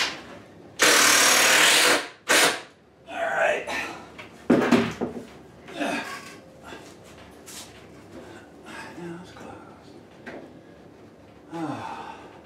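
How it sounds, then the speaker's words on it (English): A power drill drives screws at an angle into wood while building cellar shelves, with a loud sustained whir near the start, then shorter bursts of drilling and handling noise among breathy sounds. "I'm just toenailing, angling these screws in a little bit too"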